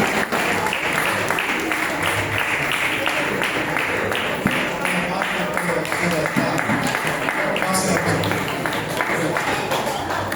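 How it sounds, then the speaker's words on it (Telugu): A church audience at a Christmas drama claps loudly for the pastor, steady dense applause running throughout with voices faintly mixed in. "తర్వాత గట్టిగా చప్పట్లతో పాస్టర్ గారిని ఆహ్వానిస్తాను"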